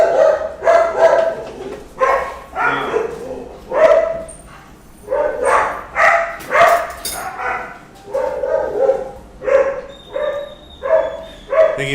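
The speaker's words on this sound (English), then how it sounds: "It's probably like a dog walking by." A dog barks repeatedly in steady bursts, loud and close, with short pauses between barks and no one speaking.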